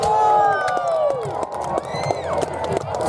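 At a War of 1812 battle reenactment, an outdoor crowd cheers and shouts loudly, voices swelling together with scattered claps, and some individual voices stand out above the mass.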